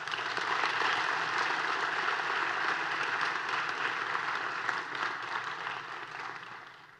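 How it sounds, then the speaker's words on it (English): Audience applause at a school honors ceremony, a sustained wash of clapping from a large crowd that slowly tapers off over seven seconds. "let's give a big round of applause for all the service our students complete"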